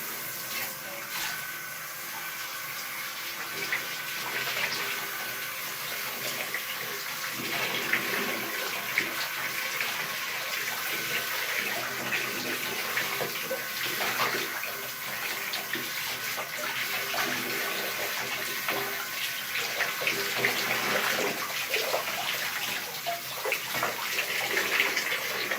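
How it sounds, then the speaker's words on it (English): Steady running water rinses hair dye out of hair, a continuous broadband hiss and splash like a faucet or shower filling a basin, moderately loud and unbroken throughout with faint shifts as the flow hits hair and hands. "we are now ready to rinse out the seal."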